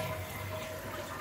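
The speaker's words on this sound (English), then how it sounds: "But that seems like a pretty good flush." A toilet flushing after a new flapper valve has been fitted, a quiet, steady wash of running water heard close and alone for a brief moment.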